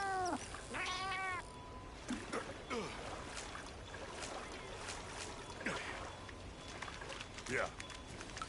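A house cat named Biscuit meows several times, with rising and falling cries spaced through the stretch, alongside faint background sounds and occasional quieter noises between calls.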